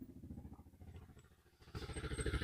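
A motorcycle rides past on a village road in Indonesia, its engine a steady throbbing drone that swells noticeably louder and closer in the final second.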